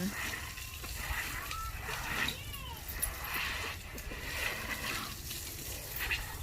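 Water splashes and sloshes steadily while an elephant, a tusked bull, is bathed at home, with voices talking over the wet splatter throughout.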